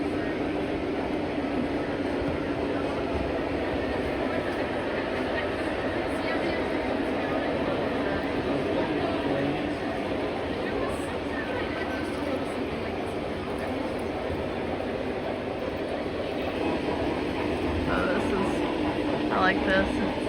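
A Great Smoky Mountains Railroad train rolls past the depot with a continuous loud rumble lasting throughout, while people talk over it.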